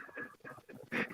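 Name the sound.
dog making weird noises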